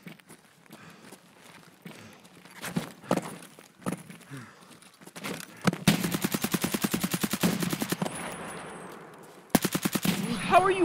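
Automatic gunfire in the video game Escape from Tarkov: sparse footsteps and scattered shots give way to long rapid bursts of rifle fire, loud and close, with a brief pause before another burst.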